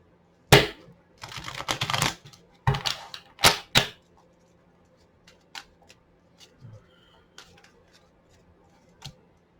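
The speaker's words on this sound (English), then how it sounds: "Let me shuffle once again" Quick crisp bursts of cards being riffled and shuffled, a few rapid flurries early on, then lighter scattered taps and flicks in a quiet room.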